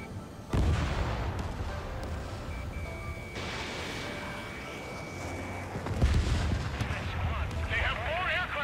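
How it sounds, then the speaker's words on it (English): Missile launch and explosions in the Ace Combat 7 jet combat game: a sudden heavy boom opens a sustained roaring rumble, with another loud burst and crackling blasts later, and a voice speaks over the din. "Missile away."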